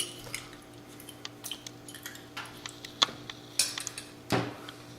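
Plain yogurt gets stirred in a bowl with a spoon, seasoned with salt, pepper and olive oil: soft, irregular clinks and scrapes of metal against the dish, quiet and close, with no voices.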